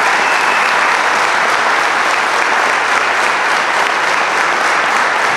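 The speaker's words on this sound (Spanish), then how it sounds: "Un aplauso enormemente merecido." Loud, sustained applause fills a bowling award ceremony, a thick, unbroken roar of clapping from a large crowd that holds steady throughout.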